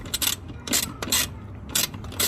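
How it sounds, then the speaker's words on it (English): An 8mm socket ratchet loosens a bolt on a 2021 Bronco side mirror, clicking in quick close bursts of ratcheting, four or five short strokes with brief pauses between. "I'm using a 8mm socket to loosen up"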